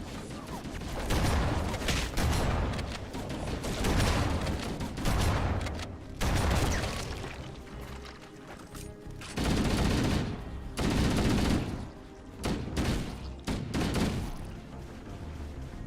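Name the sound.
gunfire in Halo video game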